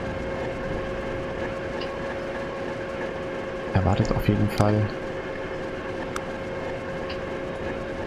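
Train rolling into a station in the rail-management game Transport Fever 2: a steady rumbling hum with sustained tonal drones runs throughout, with a brief stretch of talking partway through.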